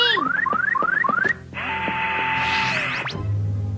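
A cartoon alarm from a 1994 Mega Man anime: a rapid series of rising electronic whoops, then a sustained harsh buzzing siren tone that cuts off abruptly into a low rumble.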